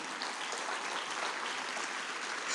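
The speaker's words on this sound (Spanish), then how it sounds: "Dale un fuerte aplauso al Señor Jesús" Church congregation clapping during a sermon, a dense, even wash of applause that holds steady at moderate level for the whole short stretch.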